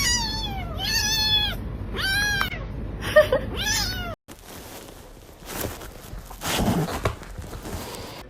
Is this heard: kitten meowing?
yes